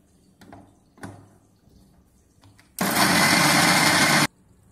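A loud, steady mixer grinder whirs through chilies, garlic and ginger for about a second and a half after a few light clinks and knocks, then stops abruptly.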